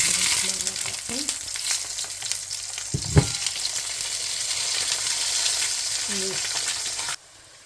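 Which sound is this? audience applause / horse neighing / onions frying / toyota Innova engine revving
onions frying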